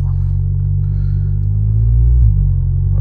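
An Audi S3 8V engine accelerates from idle with a deep, close rumble that builds briefly into a throatier surge before settling, heard alone with no talking.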